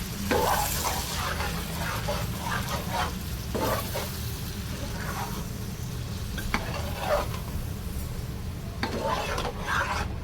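Ground masala paste frying in oil for a keema curry, a low sputtering sizzle with repeated spoon-stirring scrapes and clinks against the pan, close by with no voices.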